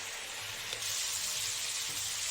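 Masala for a catla fish curry with spring onion fries hot in a pan, a steady close sizzle that grows louder partway through, with no talk.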